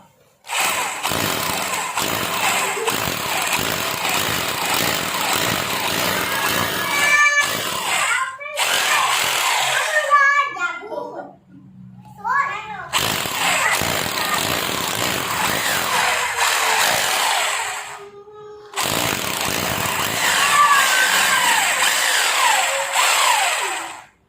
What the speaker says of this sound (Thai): เราก็ทำการเจาะไปเลยนะครับ